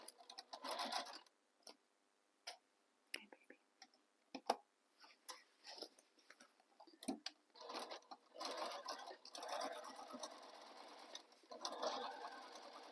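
A sewing machine bastes foam onto tote bag panels in short stop-start bursts of stitching, then settles into a longer steady run toward the end, close up with no talking.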